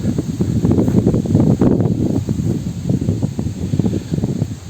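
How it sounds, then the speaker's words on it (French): Outdoor wind buffeting the microphone in open countryside, a loud, continuous low rumble with gusty surges and rustling over the whole stretch, no voices. "J'ai le vent, j'ai tout, la nature qui me..."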